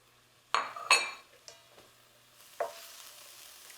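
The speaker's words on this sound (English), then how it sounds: "While that's sauteing a little bit" Minced garlic and trinity vegetables sauteing in a pan, with a faint sizzle under a few sharp clinks and stirring scrapes of a utensil against the pan.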